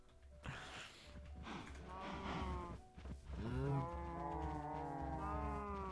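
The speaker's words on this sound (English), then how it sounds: "I killed this unrelated cow over here." Cow in the video game Minecraft gives a few drawn-out moos, close and fairly quiet, over a low steady background hum.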